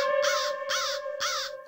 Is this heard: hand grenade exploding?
no